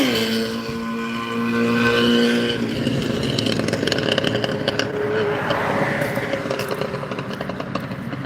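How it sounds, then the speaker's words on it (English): Motorcycle running with no exhaust baffles, loud and raspy as it revs and pulls away, the harsh engine roar rising then breaking into rough, crackling noise, close by and without speech. "He thinks his bike sounds awesome with no baffles, but yeah, all that noise and not really going very fast."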